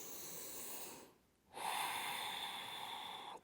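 Strong breaths drawn and released while holding a forward fold, Uttanasana, in a yoga session: a steady airy rush, a short quiet pause, then a louder, longer exhale or inhale close up.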